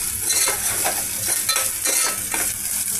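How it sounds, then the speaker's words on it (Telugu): Onion pieces frying with ginger-garlic paste and cocoa powder in a pan for a taro curry, a steady close sizzle with stirring scrapes throughout. "పెద్దల్లిపాయ పీసెస్తో ఇవన్నీ ఫ్రై అవుతున్నాయండి"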